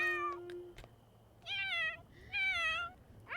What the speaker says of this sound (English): Matthew, what's wrong with your cat?